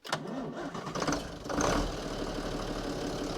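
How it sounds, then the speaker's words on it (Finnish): An old Swed Trac tractor diesel engine cranks and fires up, then settles into a steady, low rumbling idle close by. "Heti kuulostaa niinku ihan oikeesti niinku kuorma-auton moottori. Nätti rauhallinen ääni."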